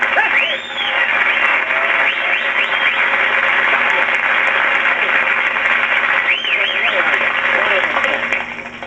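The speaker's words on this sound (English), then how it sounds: "how about a nice round of applause for a great, wonderful guy, Mr. Hope" An audience at a 1952 cerebral palsy telethon applauds steadily and loudly for several seconds before the clapping fades out.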